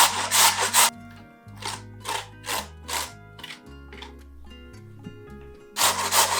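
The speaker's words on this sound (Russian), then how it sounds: "И также натрем картошку на крупной терочке." Young potatoes grated on a coarse grater in a kitchen, a series of rhythmic rasping strokes, close and fairly loud, with short pauses between them and a quicker burst at the end.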